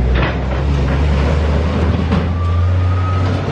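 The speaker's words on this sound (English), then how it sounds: "You were video bombed by a tractor. Noisy bugger." A tractor driving past near Mullion Cove in Cornwall, a loud steady low engine drone that holds throughout, with a rising tonal whine toward the end and wind buffeting the microphone.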